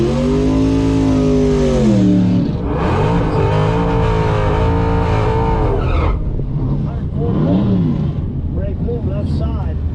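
A ProCharged 5.7 Hemi drag car launches at the strip against a gasser, its engine revving hard and climbing with tire squeal and a second burst of revs, loud and close throughout.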